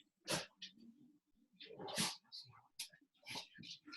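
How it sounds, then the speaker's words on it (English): A dog barks indoors at home, a series of sharp, fairly faint yaps and snorts at irregular intervals, with a few breathy sounds between them. "stop barking"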